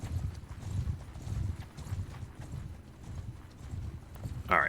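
Horse hooves clip-clop steadily at a riding pace in Mount and Blade Bannerlord, a continuous rhythmic trot that stays moderately close and even throughout, with a brief sharp noise right at the end.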